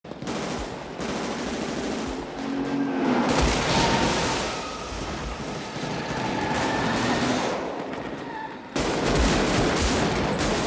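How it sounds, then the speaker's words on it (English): Sustained, dense bursts of automatic gunfire in the Heat street shootout, loud and continuous over about ten seconds, with overlapping rapid shots and echoing reports and no talk. "this intense, gripping scene of loud gunfire and panic"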